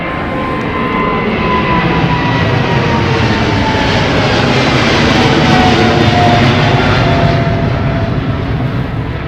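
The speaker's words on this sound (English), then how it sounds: "A350 headed to JFK" Airbus A350 jet bound for JFK at London Heathrow Airport, a loud, steady broadband engine roar with a rumbling low end, continuous throughout and heard alone without talk.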